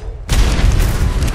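A loud gunshot-like boom erupts after a brief quiet moment and sustains as a dense, rumbling burst in the video game Atlas, with no talk over it.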